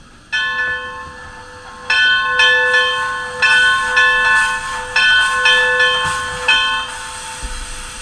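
A Rapido S160 OO gauge model steam locomotive, DCC sound fitted, rings its bell: a clear metallic clang struck repeatedly at a steady pace, each ring sustaining and overlapping the next, loud and close.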